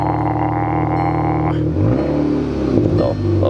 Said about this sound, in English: Let's get a little start up here in the good old Mark 6.